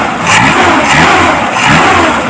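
A carbureted Suzuki Katana/Jimny 4x4 engine revs hard on sudden throttle blips, loud and close, with a continuous roaring revving that surges and eases a few times over a couple of seconds.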